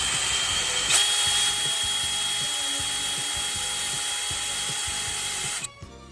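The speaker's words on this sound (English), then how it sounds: "the battery on my drill is basically dead. So I'm trying to drill out what's left of this." A cordless drill with a nearly dead battery whines steadily for several seconds at a strained, uneven pitch, struggling under load while drilling out a broken bolt, before cutting out abruptly near the end.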